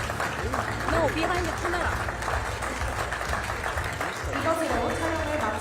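A group at a Korea–Brazil business roundtable event claps together for a photo, steady applause running throughout with people talking over it.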